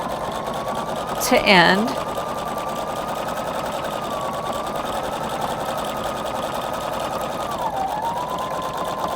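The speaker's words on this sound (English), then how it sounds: "I just keep sewing and sewing and sewing until I get to where I want the taper" Husqvarna Viking Designer Brilliance 80 sewing machine stitching a taper, a steady close hum with a rapid needle rhythm running throughout, with a short burst of speech near the start.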